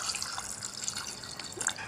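Water poured from a tap or jug over chickpeas soaked for eight hours in a pot with rock salt, a soft, steady splashing trickle with a few light drips, fairly quiet and close, with no talking.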